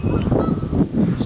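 Canada geese honking loudly and close by at a New Jersey shore feeding spot, several overlapping calls in quick, continuous succession.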